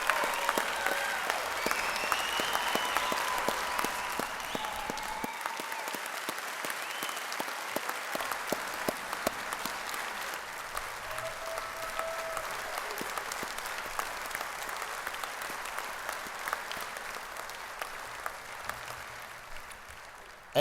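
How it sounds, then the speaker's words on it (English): A long, sustained round of audience applause at the 2015 Troy University Athletics Hall of Fame ceremony, a steady crowd clapping that holds for about twenty seconds with only faint voices beneath. "Like the class of 2015 to please stand for one last round of"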